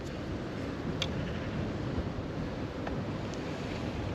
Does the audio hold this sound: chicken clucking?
no